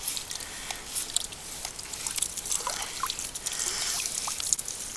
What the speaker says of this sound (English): just the flow on this thing alone. I mean, this thing's like a water jet.